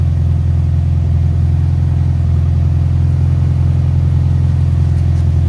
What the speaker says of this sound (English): do a before and after of the sounding of how this exhaust used to sound versus how it's gonna sound later on